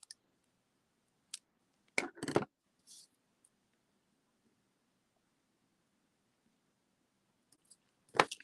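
Scissors snip a thin strip from paper or card in a quiet room: a few sharp, close cutting clicks come in short clusters with long silent gaps between them.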